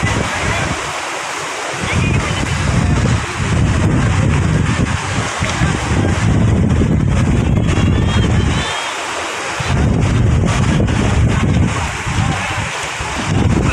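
Strong habagat monsoon wind blows at sea on Manila Bay, buffeting the microphone in loud, continuous roaring gusts over waves, broken by brief lulls.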